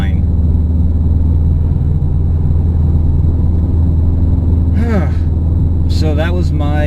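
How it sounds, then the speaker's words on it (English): A steady engine drone with a constant whine, no longer grinding, runs throughout inside a moving modified Subaru STI, and a brief voice comes in near the end. "you can hear the whining, but it's not a grinding anymore"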